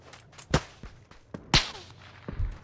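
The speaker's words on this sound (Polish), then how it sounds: "granaty jakieś w niego pod domkiem wybuchają" Several sharp, scattered grenade blasts and cracks beneath a house in the video game PUBG go off at irregular intervals, some louder and closer, others faint and distant.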